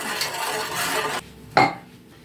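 Salt and sugar being stirred in a pot for a pickled tomato brine, with utensil scraping and clinking against the pot, loud at first, then a pause and one sharp clink.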